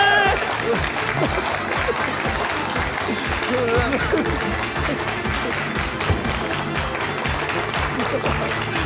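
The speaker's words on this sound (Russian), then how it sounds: "Теймур Астания и ваши аплодисменты!" A studio audience applauds steadily during a televised entertainment show, with dense, sustained clapping filling the room over a continuous crowd backdrop and no break.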